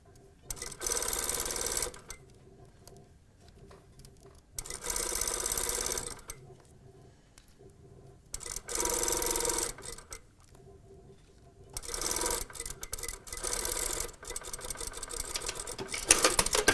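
A sewing machine stitches down a French bind on a hem in several loud, steady whirring bursts, each a few seconds long and separated by short pauses, close by with no voices.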